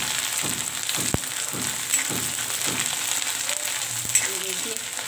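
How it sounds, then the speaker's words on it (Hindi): Ginger garlic paste frying with browned onions in a pan, a steady soft sizzle with a few faint stirring strokes and light clicks. "अब बस हम इसको हल्का सा इसको भून लेंगे, ताकि हमारे अदरक लहसुन का जो हमने पेस्ट डाला था उसका कच्चापन निकल जाए"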